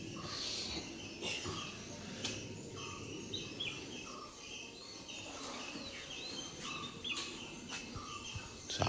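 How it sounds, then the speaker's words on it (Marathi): Birds call and chirp repeatedly in a calm Konkan morning outdoors near Sawantwadi, scattered tweets over a steady low background hum, with insects faintly audible and no talking. "आणि पक्ष्यांचा असा मस्त आवाज येतोय."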